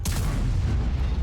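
A tank's main gun firing in World of Tanks on a Grille 15 tank destroyer, one deep, loud boom that rolls into a heavy rumbling tail, alone without talk.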